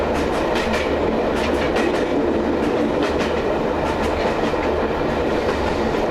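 A train climbing the steep Broadfield Bank incline on the line towards Heywood, a steady loud rumble of wheels on track with rhythmic clickety-clack joints throughout, no voices.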